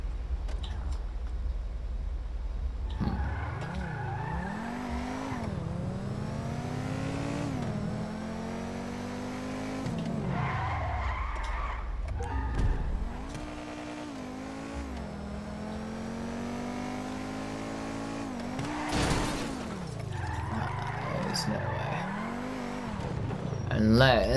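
Cars racing in GTA V, their engines revving hard in repeated rising and falling pitch sweeps, with a possible tire skid, loud and close throughout.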